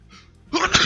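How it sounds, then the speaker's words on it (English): A single sneeze, with a soft breathy intake followed by a sharp, loud burst that trails off, close to the microphone, from a person playing a Spelunky 2 daily challenge. "I can feel a sneeze coming"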